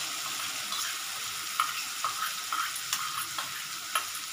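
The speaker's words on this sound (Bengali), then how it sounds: "এবার আমি এটা সাঁতলাবো খুব আস্তে আস্তে সেইভাবে" Spice paste mixed with sugar and salt sautéing slowly for ghugni, with a steady hiss of frying and a series of light, regular taps from a spoon stirring the pan.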